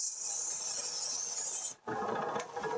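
Custom knife blade sharpened at about 15 degrees on the primary and apex bevels, a steady close rasping grind that stops briefly, then resumes with a rougher, broader scrape.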